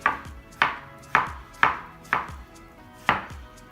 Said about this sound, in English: Just slicing them. You can quarter them, slice them, whatever you want to do.